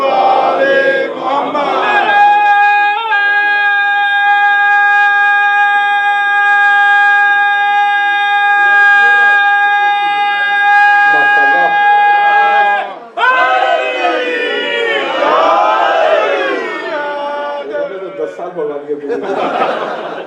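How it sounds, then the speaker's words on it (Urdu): A mosque congregation in Calgary recites durood loudly in unison, many voices chanting together in sustained, resonant tones with crowd murmur and a pause before the chant resumes. "درود پڑھ دیں محمد والے"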